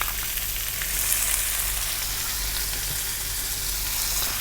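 Onions fry in a pan for an achari murgh chicken curry, a steady loud sizzle with a constant hiss and no talk.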